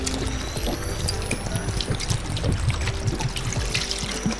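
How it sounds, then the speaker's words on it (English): Broth pours into a pot of sautéed meat, potatoes and carrots for a pot pie, a continuous close splashing trickle lasting several seconds. "I'm gonna add 1/2 cup of the broth."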